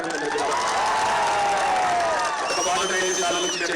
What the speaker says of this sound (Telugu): మిషన్ భగీరథను బ్రహ్మాండంగా పూర్తి చేసి ఇంటింటికి నల్లాలిచ్చిన కేసీఆర్ గారికి గట్టిగా చప్పట్లతో ఒకసారి